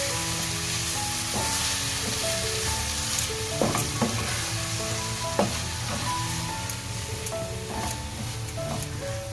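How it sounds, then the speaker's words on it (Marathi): Soaked dried fish is stirred into onion and tomato sautéing in a pan, with steady loud sizzling and repeated scraping stirs, while music plays in the background. "आता याच्यामध्ये सुकट घालते ही सुकट आपण धुवून घेतली होती ओली करून घेतली होती ती घालून घेतली ती पण चांगली मिक्स करून घेतली"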